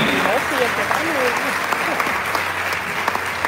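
A church congregation at a missions service applauds steadily, a dense wash of many hands clapping at once, while voices speak over the applause.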